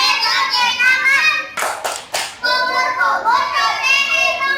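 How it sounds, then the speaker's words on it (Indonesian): Children chant and clap together in a wudhu ablution clapping song, quick sharp hand claps punctuating their singing voices close by in a classroom. "Kita tepuk wudhu sekali lagi ya biar bisa."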